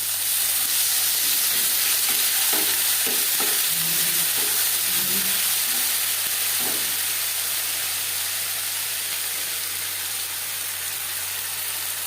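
Ginger and green chilli paste frying in oil for a pabda fish curry, a loud, continuous close hiss and sizzle with a few soft stirring knocks early on, then a steady sputter.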